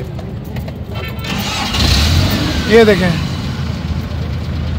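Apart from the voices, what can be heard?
Suzuki pickup engine starting and idling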